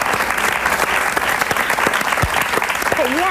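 A studio audience applauds steadily for young Braulio on a host's television show, a dense, continuous clapping that fills the room, with a voice briefly heard and a rising vocal inflection near the end.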